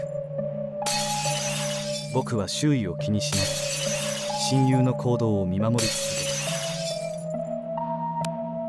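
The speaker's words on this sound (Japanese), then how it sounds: "親友はためらうことなく窓ガラスを破壊していく。" Window glass is smashed in repeated bursts of bright shattering and tinkling shards, loud and close, with spoken narration continuing over and between the crashes.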